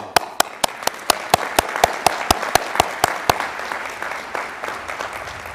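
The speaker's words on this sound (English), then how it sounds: "join me in a cheer for the families of the graduates" A commencement audience at Juniata claps in a steady, evenly spaced rhythm of sharp, loud beats, the clapping continuing for a few seconds and then fading into a softer crowd murmur.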